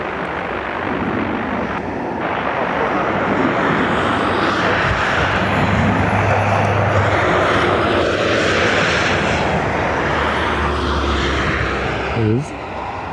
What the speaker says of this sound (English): ATR from Brest in France.